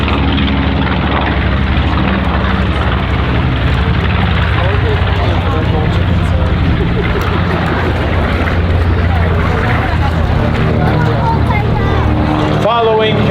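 WWII warbird aircraft taxiing past at an airshow, a loud continuous piston-engine propeller drone that stays steady and close for the whole stretch, with a voice talking over it.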